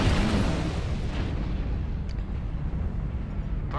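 An airstrike explosion in a video game: a loud, sustained rumbling roar that fills the whole moment without a break, with no talking over it.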